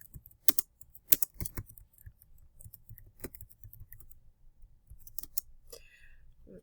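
Keys clatter on a computer keyboard as an essay is typed, with scattered, irregular clicks arriving in short bursts and gaps, fairly close and crisp at moderate loudness.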